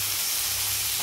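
Onions fry in a pan, a continuous, even hiss of sizzling oil without pause, close and moderately loud.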